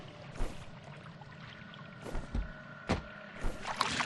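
Scattered light splashes and water ripples as a player moves through water in the video game FEAR, a few soft, brief sloshes spaced over several seconds against a quiet background.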